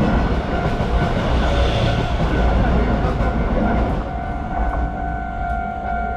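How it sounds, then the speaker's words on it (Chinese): A train rolls through a railway level crossing near a village archway in Yilan, Taiwan, its steady loud rumble and wheel clatter continuing close by before easing slightly toward the end. "第二班火车即将来临。"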